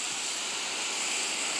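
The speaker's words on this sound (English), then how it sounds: "And then I'm going to soak this down with a hose." A garden hose sprays water steadily to soak down a canvas cover, a continuous broad hiss with no pauses, fairly close and alone without talk.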